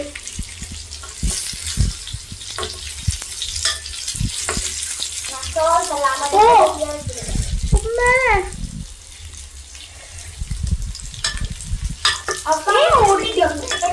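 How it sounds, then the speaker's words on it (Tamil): Fruit cooks in a pan, bubbling and sizzling with stirring scrapes and running water, while people talk intermittently over the kitchen noise. "கொதிச்சுல பழம் ஒட்டி பிடிக்குது"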